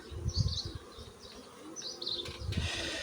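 Honeybees buzz close by in uneven swells around hive frames in early spring, their droning hum rising and fading around the microphone with no voices.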